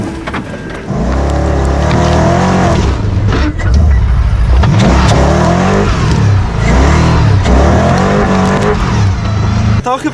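A Nissan Patrol crawls up a steep off-road slope at low revs, its engine droning loud and steady with slight surges throughout, while voices speak over it.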